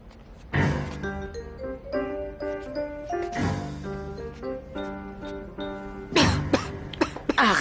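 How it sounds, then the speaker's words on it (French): An older woman coughing in a French-dubbed telenovela scene, several harsh bursts with throat clearing between them, close and loud, set against a soft tinkling piano melody. "Arrête de tousser."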